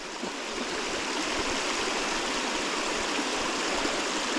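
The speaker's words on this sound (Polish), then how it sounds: "Bo tu widzę, że tu już strumyk faktycznie." A stream flowing beside an outdoor route rushes steadily, a dense, even wash of water noise that stays close and constant throughout, with no voices.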